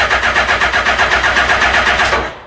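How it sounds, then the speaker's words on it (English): A Suzuki GSX-1300R Hayabusa motorcycle engine, with rust in the fuel and an immobiliser problem, is cranked by the starter, giving a loud, close, steady rhythmic churning of even pulses for about two seconds that stops without catching. "I'm looking for the cranking, make sure the cranking works"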